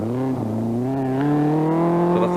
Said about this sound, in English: the rally cars flash briefly by as the sound and light comes together for the watchers